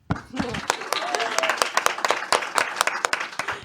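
Studio audience applause closing a segment of a faith talk show, steady dense clapping throughout, fairly close and loud, with a voice speaking briefly at the start.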